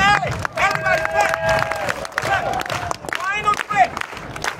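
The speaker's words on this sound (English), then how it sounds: "Grand finale. Everybody clap." An audience at a Fringe 2023 juggling street show claps for the grand finale, bursts of applause and cheering rising between a performer's loud, close speech.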